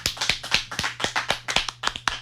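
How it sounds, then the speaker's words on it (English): A small group clapping after a live country music radio show in a studio, the claps sparse and distinct in a quick, uneven rhythm, close and moderately loud with no talking. "The guys should clap too."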